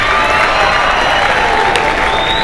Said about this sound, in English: Can we give Abo Tintswalo just one more round of applause, please?